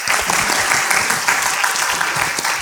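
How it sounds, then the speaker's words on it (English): An audience gives a steady, dense round of applause at a public lecture, clapping continuously and evenly throughout with no pause. "a round of applause please"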